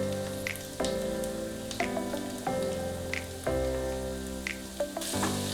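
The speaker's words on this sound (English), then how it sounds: "now we need to fry this garlic and ginger till we get rid of its raw flavor" Finely chopped garlic and ginger fry in oil over a medium flame with a soft, rain-like sizzle. Occasional stirring knocks and scrapes are heard close by, and no one speaks.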